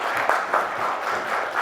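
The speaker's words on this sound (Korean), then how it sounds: "박수로 맞아주세요." Audience applause greeting a speaker at the opening ceremony of the 2019 Korea Basic Income Forum, a steady, fairly thin patter of clapping from a modest morning crowd lasting the whole moment.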